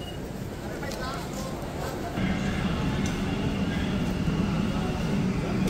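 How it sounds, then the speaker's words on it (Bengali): A Kolkata metro train on the Sealdah–Howrah line pulls into platform 2A with a steady, loud rumble that swells midway as it arrives, with voices talking over it. "এই যে ট্রেন কিন্তু ঢুকলো"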